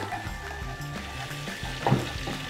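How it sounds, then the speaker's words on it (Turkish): Mint sizzling as it fries in hot fat, a close steady crackle with a clack of a utensil against the pan near the end, under a low hum, with no talk. "Nane yakmak bu kadarmış arkadaşlar"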